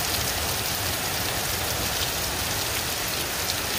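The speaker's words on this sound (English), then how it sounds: "Raining pretty good." Heavy rain drums steadily on a Luxe Tempo tent in the wind, a dense, loud, unbroken patter close overhead with no voices.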